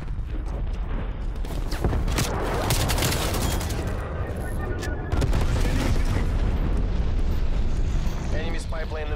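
A frag grenade goes off in Call of Duty: Black Ops Cold War on the Nuketown map, a loud boom amid ongoing gunfire and dense battle noise, with a voice talking over the chaos.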